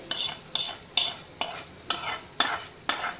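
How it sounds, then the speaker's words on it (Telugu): Fried curry leaves being stirred into mango pickle in a bowl: seven regular scraping, squelching strokes of a spoon, evenly spaced about half a second apart, close and clear with no talking. "సో పచ్చడిని బాగా కలుపుకుందాం."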